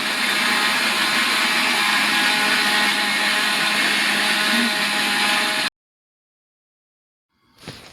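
A kitchen mixer grinder blends tomatoes into a paste, running loud and steady at close range for several seconds before it cuts off abruptly; after a short silence, a brief rustle follows.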